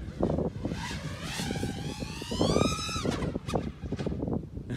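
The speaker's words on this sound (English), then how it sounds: "It sounds like a really good tuned quad to me." An FPV quadcopter with 2750KV motors on a 6S battery in flight: a whining, buzzing motor tone that climbs sharply in pitch and then drops, with wind rushing past the microphone.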